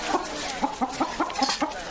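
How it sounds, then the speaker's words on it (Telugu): Fighting roosters cluck in a quick repeated series of about eight short, loud, close calls over a steady background hum. "బెంగళూరు నుంచి తెప్పించిన పుంజులు చూసావు కదా, దాంతో పందానికి సిద్ధమేనా?"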